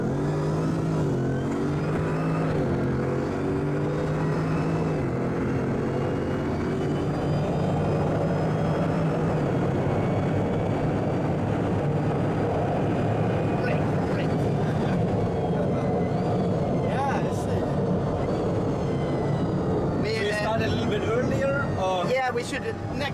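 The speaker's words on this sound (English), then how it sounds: "At the line there, we will floor it. I love this Veyron sound." A Bugatti Veyron at full throttle from a standing start gives a loud, continuous engine roar with rising gear tones under excited talk in the cabin.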